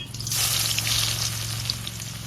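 A steady sizzle of finely chopped onions frying in hot oil with broken red chillies, close and constant, with a brief stirring scrape early on.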